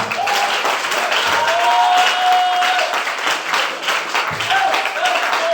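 A church congregation applauding in dense, steady clapping under loud sung or shouted voices, close and lively throughout.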